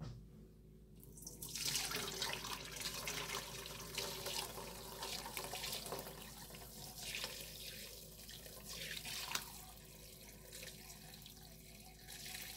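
Homemade chicken broth pours steadily through a strainer, a continuous splashing, trickling stream that stays fairly quiet and close, with no talk.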